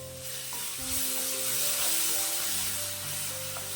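Tomatoes and onion sauté in a pan for an egg curry, giving a steady close sizzle and hiss with occasional scrapes and clinks from stirring throughout.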